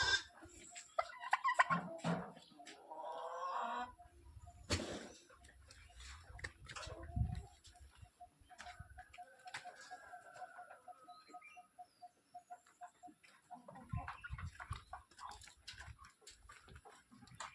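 Black chickens on a farm at Nelliyampathy cluck in scattered short bursts, fairly faint and intermittent, with quiet gaps and small ticking noises between calls.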